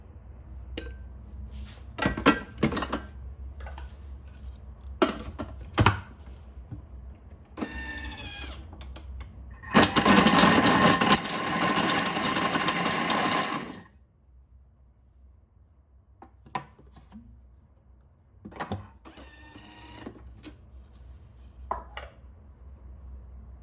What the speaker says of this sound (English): and then I'm gonna chop up the apricots